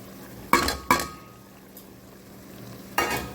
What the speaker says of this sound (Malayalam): അപ്പോൾ അതെല്ലാം കൂടി ഒന്ന് നല്ലോണം മിക്സ് ആക്കിയിട്ട്